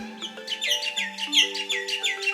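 Birds chirp and tweet in a jungle setting, a quick run of bright, repeated calls with steady tonal notes beneath, fairly close and without talk.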